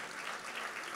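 Applause of praise during a Spanish-language church service, a dense steady patter of many clapping hands filling the room, moderately quiet, with no clear speech.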